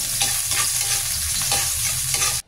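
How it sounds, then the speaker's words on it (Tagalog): Garlic sizzles in a little oil in a hot pan, a close, steady frying hiss with stirring scrapes that cuts off abruptly at the end. "Unahin na muna natin igisa itong bawang."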